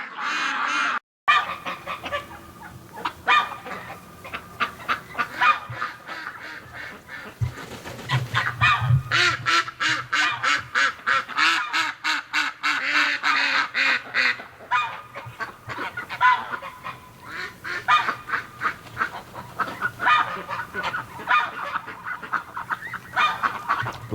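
Ducks and geese at a winter pond honk in a dense, continuous chorus of overlapping calls, some close and loud, with rapid bursts of honking and quacking throughout.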